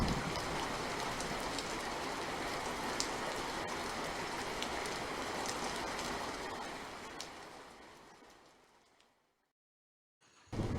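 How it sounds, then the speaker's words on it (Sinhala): Heavy rain pours down steadily, a dense loud hiss that fades away toward the end before a brief return. "මේ වැස්ස නතර වෙන පාටක් නෑ"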